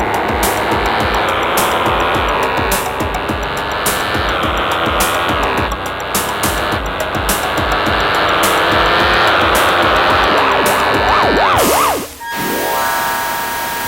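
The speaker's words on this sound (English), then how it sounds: "revving, squealing road sounds" Revving, squealing road sounds from a video game played on an Ad Lib sound card: a continuous loud synthesized engine drone with repeating pitch sweeps, rising toward the end before a brief cut and a fresh tone.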